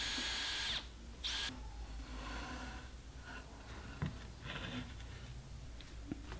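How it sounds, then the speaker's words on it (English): A power drill with a Forstner bit whines and bores socket holes into wood in steady bursts, close up, with brief pauses between cuts. "I'm going to do is drill out these socket holes with a forstner bit"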